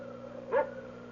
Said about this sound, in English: That barking dog.